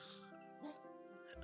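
A little puppy whimpers and yips in a room with a thin, high whine that rises briefly. It is faint and sits under a person talking.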